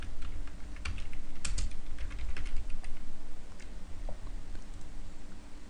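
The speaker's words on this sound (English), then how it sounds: "So I'm typing in the same thing once again, and I'm clicking on" Someone types quickly on a computer keyboard while entering product details into an online store setup, a close, steady patter of key clicks with no talking.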